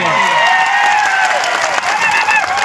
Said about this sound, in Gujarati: જોરદાર તાળીઓ પાડી લઈએ